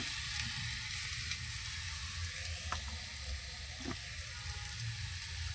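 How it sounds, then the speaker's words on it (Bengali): Garlic paste sizzling in hot oil left from frying tengra fish, an even, continuous hiss with a couple of faint clicks partway through. "ওই তেলের মধ্যে রসুন বাটা"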